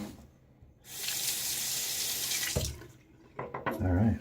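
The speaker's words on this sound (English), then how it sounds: "All right, rinse this off." Water runs from a bathroom tap in a steady rushing stream for about a second and a half while a razor is rinsed after a wet shave with a Wolfman WR1 razor and Kai blade, followed by brief clinks and handling noises.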